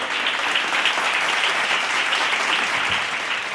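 Sustained applause from a crowd, steady and fairly loud throughout with no break.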